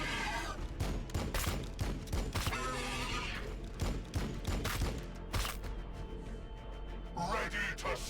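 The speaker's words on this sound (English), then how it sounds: "Firing on the enemy." Sharp gunfire bursts crack repeatedly in the Warhammer 40k Battlesector video game, loud and close, over a busy battle mix with occasional unit voice lines.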